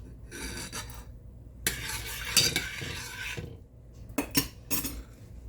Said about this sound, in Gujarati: તેને આપણે હલાવીશું